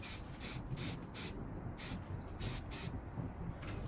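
Aerosol primer sprayed onto model truck parts for a 1/14 Tamiya Grand Hauler, quick hissing bursts repeated in short passes with brief gaps, close and fairly quiet.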